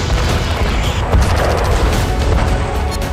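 A blast tears through a rail bridge in Ulyanovsk, Russia, heard as a dense, loud rumble with a heavier boom near the middle and crackling bursts continuing through to the end.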